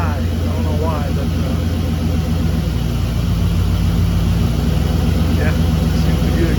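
A 1959 Ford wagon engine settling into a low idle, a steady mid-to-low rumble running throughout with voices talking over it.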